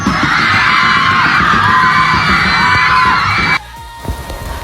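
Loud crowd roaring with cheers and shouts at a sports event's opening ceremony during a team banner raising, sustained for over three seconds before cutting abruptly to quieter ambient noise.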